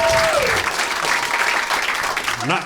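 Comedy-club audience applauding a comedian, a dense burst of clapping that fades slightly before swelling again at the end, with voices and a few whoops mixed in.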